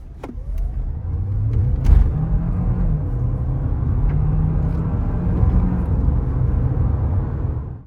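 A Hyundai Tucson Hybrid SUV engine rumbles and builds steadily as it accelerates from 0 to 100, a continuous loud drone inside the cabin with a few small clicks.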